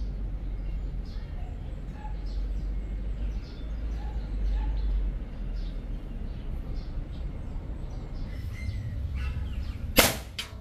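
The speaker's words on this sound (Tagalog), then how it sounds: "Medyo mahina na hangin na airgun ko." A single sharp airgun shot fired at mangoes in a tree, one loud crack near the end after a long stretch of outdoor ambience with faint bird calls and low wind rumble.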